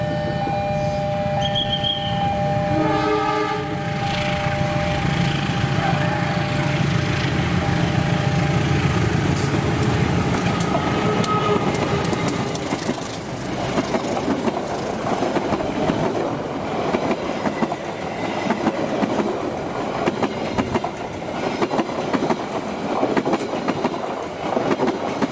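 The KA Brantas passenger train, hauled by a CC203 diesel locomotive, passes with an opening horn blast, a heavy engine rumble and a long rhythmic clatter of wheels over the rails that slowly fades.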